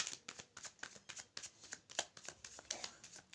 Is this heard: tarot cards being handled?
yes